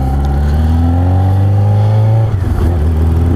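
A motorcycle engine with a previously cracked oil pan revs loud and close, its steady droning pitch climbing and then shifting as the throttle changes near the end.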